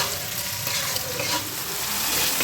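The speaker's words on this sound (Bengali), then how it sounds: "ঘুগনি লুচি করছি" Ghugni frying in a pan with onion, tomato, garlic and ginger pastes, cumin and coriander powder, giving a steady close sizzle with stirring scrapes throughout, no talk.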